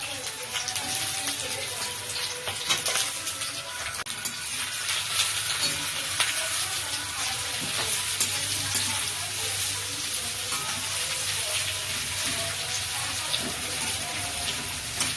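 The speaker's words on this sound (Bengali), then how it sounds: "পেঁয়াজে অল্প করে নুন দিয়ে দেবো, পেঁয়াজ তাড়াতাড়ি ভাজা হয়ে যাবে।" Onions sizzle steadily in hot mustard oil in a wok, a dense continuous crackle with occasional clinks of stirring and a low hum beneath, no voices.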